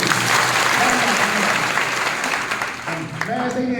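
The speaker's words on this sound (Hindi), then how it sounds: "जोरदार ताली बजाओ उनके लिए।" A crowd claps loudly and steadily at a Gondwana Ganatantra Party workers' gathering in the Shahpur assembly area. The applause is close and sustained, and a few voices can be heard beneath it.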